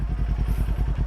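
A Kawasaki Z400 motorcycle engine idling close by with a slight touch of throttle, a loud, steady low pulsing thrum.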